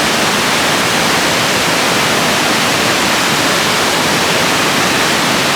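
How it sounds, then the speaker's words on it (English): Waterfall at Agate Falls or Bond Falls in Michigan, a steady broadband roar of falling water filling the whole clip, continuous and fairly loud with no voices. "It's a fun waterfall."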